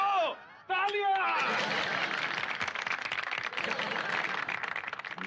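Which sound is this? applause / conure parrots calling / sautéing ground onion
applause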